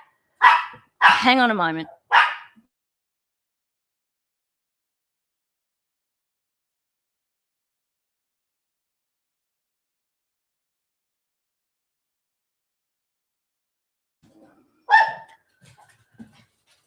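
A dog barks in a short burst of several loud, close yelps, then falls silent for a long stretch before a person speaks and another brief bark follows.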